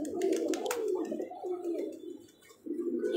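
Pigeons coo in soft, repeated throaty phrases close by at feeding time, with a brief lull before the cooing resumes.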